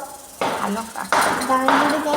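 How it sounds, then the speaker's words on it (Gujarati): A metal spoon scrapes and knocks against a pot while stirring food, a few distinct clinking strokes close by in a home kitchen. "એટલે એને ચમચાથી હલાવવું"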